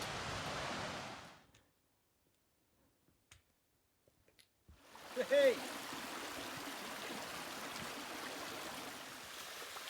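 A mountain stream along the Appalachian Trail rushes in a steady broadband wash, dropping to near silence for a few seconds with faint clicks before the flowing water returns at moderate volume.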